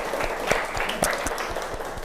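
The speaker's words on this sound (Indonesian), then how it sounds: "Tepuk tangan untuk kelompok suku Ambon." A class of students applauds a group from the Ambon tribe team in a school lesson, a steady wash of clapping with a few sharper individual claps standing out.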